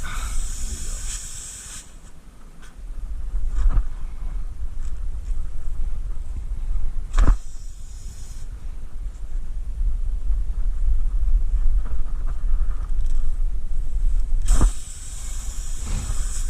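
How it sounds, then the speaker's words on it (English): Air hissing out of a punctured car tire as the plug hole is reamed larger during a plug repair, a steady broadband hiss running through most of the clip with a few sharp clicks and knocks from the tool. "It's going to make some noise when you make this hole bigger, if you've got any air left in your tire."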